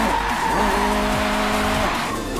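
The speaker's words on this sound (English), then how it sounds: "Let's do a little cheeky handbrake turn." A Renault Clio Williams in the Forza 7 racing game squeals its tires through a handbrake turn, with a loud continuous skid and engine drone throughout.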